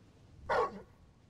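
In Final Fantasy 16, a single short dog bark sounds once, brief and fairly close, against quiet background.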